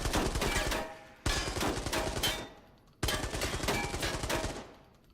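Three bursts of rapid automatic gunfire from an iron-sight gun in a video game, each a sustained volley of about one to two seconds separated by short pauses, loud and close with no voices.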